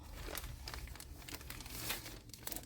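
Crinkly plastic or paper rustling and crumpling from a large mailing envelope handled up close while an eBay item is packed, with a steady series of short crackles and soft tears.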